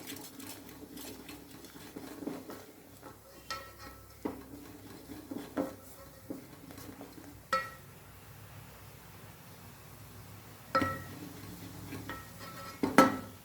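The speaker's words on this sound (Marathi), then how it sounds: "चांगली उकळी आली की ह्या लाटण्याने आपल्याला असं हलवून घ्यायचं आहे" Irregular wooden knocks and scrapes as a rolling pin stirs a pot of boiling water for rice-flour dough, with brief pauses between strokes.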